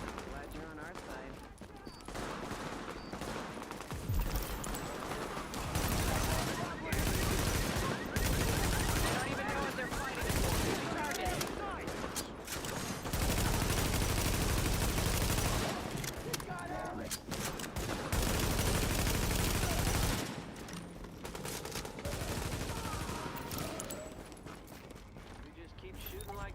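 Gunfire in the video game The Division rattles in long, sustained automatic bursts with short pauses, loud and continuous over half a minute, with voices talking beneath.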